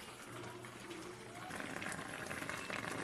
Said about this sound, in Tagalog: Sisimmer po natin para maluto po ng mabuti itong ating hito